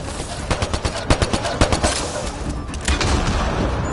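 Rapid, overlapping gunfire rattles through a busy firefight in Mass Effect Andromeda. Uneven bursts of close shots sit over a dense battle din.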